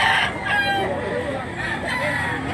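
A gamefowl rooster at a market in Mantalongon, Cebu, crows loudly and close by, a drawn-out strained call over a busy background with other fowl and murmuring voices.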